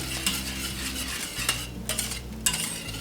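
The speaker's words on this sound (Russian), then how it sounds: "Тоже все хорошенько размешиваем." A spoon stirs cream with butter and salt in a pot, making repeated scraping and clinking strokes over a steady low hum, close and moderately loud, with no voices.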